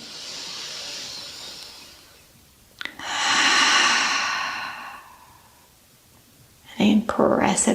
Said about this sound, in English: let's stay if we can and breathe here